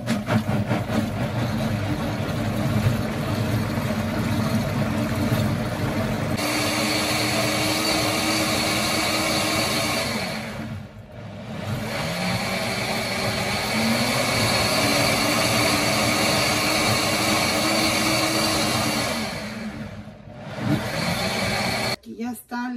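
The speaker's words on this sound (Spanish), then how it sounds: "solamente la voy a licuar aquí como si fuera una licuadora regular" A blender purées zucchini cream soup in a loud, steady whir that drops out briefly twice, then resumes at full strength.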